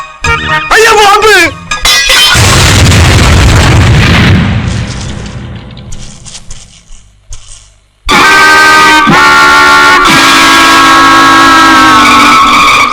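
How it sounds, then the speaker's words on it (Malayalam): A bomb explosion goes off as a loud, deep boom and rumble inside a busy comedy scene. Music and honking tones play before it, and a bright musical passage bursts back in once the blast fades. "അയ്യോ ബോംബ്!"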